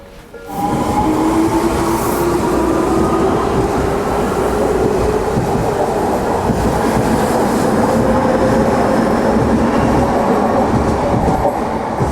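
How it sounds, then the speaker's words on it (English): A local train in Tokyo rolls steadily along the tracks, loud and close, with a continuous rumbling roar and faint high squealing tones throughout. "This is the local train bound for Honatsugi"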